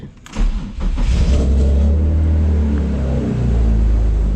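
A BMW E36 M3 engine cranks and catches on its first start after sitting, then settles into a loud, rough, rumbling idle close by.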